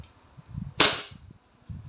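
Single crisp shot from an E&C Glock 19 Gen 5 airsoft pistol, a sharp close snap with a short fading tail, set against low murmuring background noise and no clear speech.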